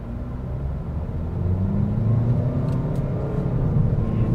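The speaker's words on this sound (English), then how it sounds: "Let's come to a stop here to put the vehicle into its sport mode here. I'm just going to just hit the accelerator." A 2023 Toyota Corolla XSE hatchback with a CVT accelerates in sport mode, its steady engine drone rising and swelling in a smooth continuous pull, heard from inside the cabin.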